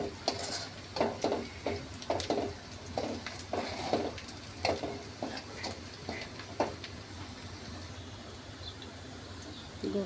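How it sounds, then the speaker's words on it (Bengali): Whole cumin and spices fry in hot oil as a tempering for dal in a home kitchen, a soft steady sizzle broken by repeated scraping stirs and light clinks of a spoon against the pan, fairly quiet. "এখন আমি বাগার দেব।"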